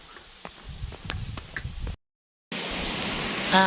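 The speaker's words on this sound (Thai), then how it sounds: "ทุกคนได้ยินเสียงน้ำตกบ่ ข้างล่างของกูเด้มนี่ก็เป็นน้ำตกตาดจำปีเนาะ" Tad Champi waterfall in southern Laos near Pakse, heard as a steady broadband rush of falling water; a fainter textured stretch with scattered knocks gives way to a brief silence, then a loud, continuous roar.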